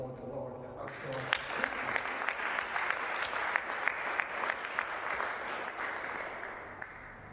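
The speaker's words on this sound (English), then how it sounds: "Let's applaud the Lord our God." A congregation applauds at a Christmas church service, a broad sustained clapping that swells in after a brief quiet start and holds steady, with individual sharp claps standing out near the front.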